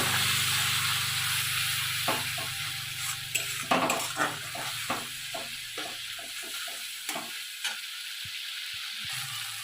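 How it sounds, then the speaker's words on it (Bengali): Masala spices for cabbage dal fry in a pan with a little added water, giving off a steady hiss and sizzle. A spoon clinks and scrapes against the pan as the mixture is stirred. "অল্প করে দিয়ে ভালো করে মশলাটাকে আমি ভেজে নেব"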